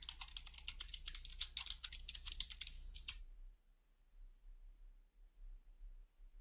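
Rapid, close keyboard typing for about three seconds, crisp clattering keystrokes, then it stops and only faint background rumble remains.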